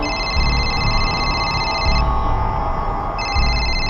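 A telephone rings with a bright electronic trill in repeated bursts, a short pause between them, over a loud, busy rumbling background.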